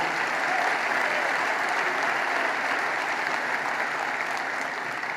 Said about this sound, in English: She got the biggest ovation of anybody in the place